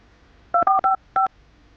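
Four short mobile phone keypad tones beep in quick succession, with a slight pause before the last, against a quiet background.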